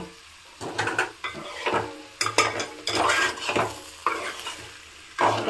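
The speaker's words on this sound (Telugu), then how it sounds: "కొంచెం ఈ మెంతం కూడా ఆయిల్లో ఫ్రై కావాలి." Potatoes and fenugreek leaves fry in oil in a pan, sizzling close by while a utensil stirs and scrapes in irregular bursts.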